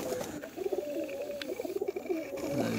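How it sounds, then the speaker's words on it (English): Tippler pigeons softly cooing after being let out of their loft, a rhythmic, fairly faint burble of repeated coos against an outdoor background. "I just let these 9 birds out"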